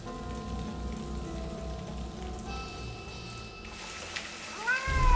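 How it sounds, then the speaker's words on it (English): In a video game, a cat meows amid steady rain falling on a surface. The meows are sharp, rising and close, and they come near the end over the constant patter. "Just a magic cat."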